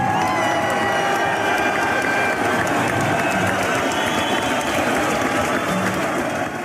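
Graduation ceremony audience clapping steadily with scattered cheers and shouts, a dense, continuous wall of applause at close range throughout.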